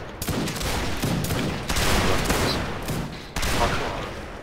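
Musket volley fire in the Napoleonic battle game Mount & Blade: Napoleonic Wars, a dense crackling fusillade of many shots bursting together in a few loud waves, with a fresh volley near the end.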